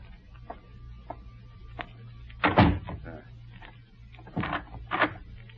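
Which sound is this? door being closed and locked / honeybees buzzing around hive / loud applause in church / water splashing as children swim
door being closed and locked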